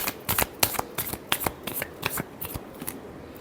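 Tarot cards being shuffled by hand, a quick run of crisp riffling bursts at an uneven rhythm, close and fairly quiet with no talking.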